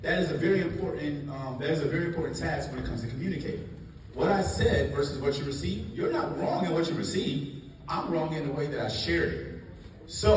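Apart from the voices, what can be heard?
No everyday noises stand out.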